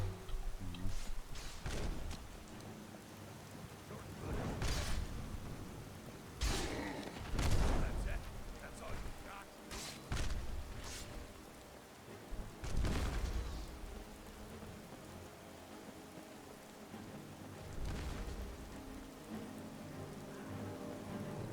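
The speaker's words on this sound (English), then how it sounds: "Oh, nice thunder crack." Steady rain falls in Skyrim, and several thunder cracks break through it, with loud booming peaks spread across the stretch and a constant patter between them, while a person talks over parts of it.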